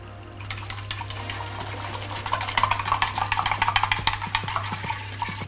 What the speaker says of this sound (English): And now that we have our black tea, we can go ahead and pour it in.